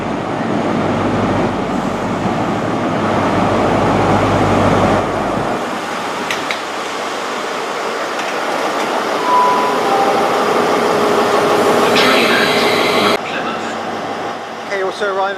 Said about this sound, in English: arrival from Leeds, formed of a HST, and that's pretty good. It's nice to see a HST.